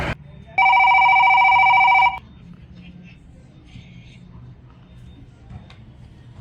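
A telephone rings once with a loud, sustained electronic double-tone trill lasting about a second and a half, then stops, leaving a quiet room with faint background noise.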